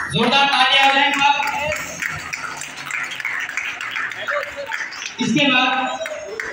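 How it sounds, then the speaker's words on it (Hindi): Audience clapping at a dance competition prize announcement for the junior category, a dense burst of applause mixed with chatter and voices over it, swelling again near the end. "जोरदार तालियां हो जाए।"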